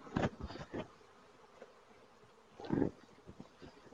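Honeybees buzzing at an open beehive during an inspection, a low steady hum with louder swells as bees pass close, heard alone without talk.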